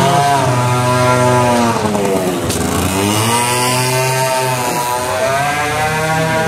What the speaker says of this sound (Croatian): To ti je motorna pila.